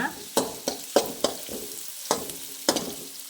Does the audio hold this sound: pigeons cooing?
no